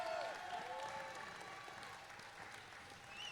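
A crowd at a roller derby match in Le Mans applauds and cheers steadily, fairly distant and even, with a faint whistle-like tone near the start and end.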